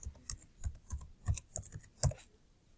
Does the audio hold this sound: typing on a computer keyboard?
yes